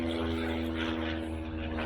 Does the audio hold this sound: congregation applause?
no